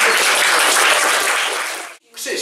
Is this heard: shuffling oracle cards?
no